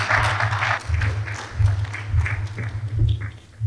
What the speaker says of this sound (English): Another round of applause for Professor Moore.